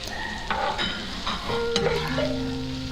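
Onion and potato fry in a pan, with a steady, close sizzle under clattering stirring and a few faint tonal squeaks.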